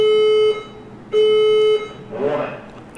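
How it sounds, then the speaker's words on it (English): A fire alarm system inside a video game sounds with two long steady electronic tones, loud and close, with a burst of other game noise after them. "The fire alarm system has operated."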